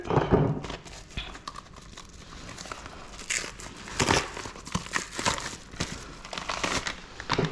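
Plastic packaging for a new airsoft uniform is cut open and crinkled by hand, close-up rustling and crackling bursts coming in irregular handling rhythm with brief quiet gaps, no talking.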